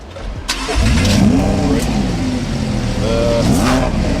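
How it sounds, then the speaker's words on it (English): A 2016 Lamborghini Huracan Spyder fires up with a sharp starter burst and a loud rising bark from the engine, which then settles into a steady, rumbling idle with a couple of smaller revs. "push on that start button"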